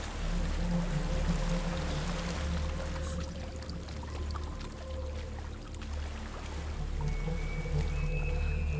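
Steady broadband rush of a waterfall in the video game Hellblade: Senua's Sacrifice, a continuous wash of falling water heard alone, with faint tonal ambience and a thin rising tone toward the end.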